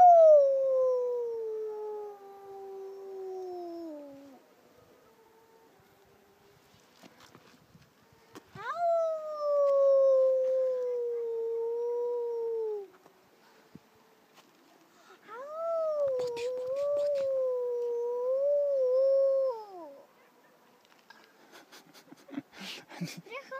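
Wolves howl from a forest in three long, wavering cries, each drawn out for several seconds and separated by quiet pauses, clear against an otherwise still background.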